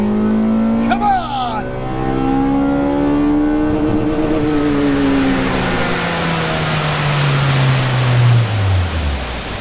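A 25-year-old Honda engine on a dyno revs hard with a rising whine that climbs, then drops as it winds down, roaring loudly against rushing noise, with a brief voice near the start.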